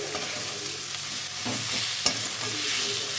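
Spices and red chilli powder stirred in a hot pan, an even sizzle with soft scraping strokes and one sharp clink of a utensil against the pan around the middle. No voices.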